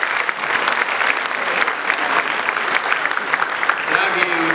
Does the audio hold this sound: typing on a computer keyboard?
no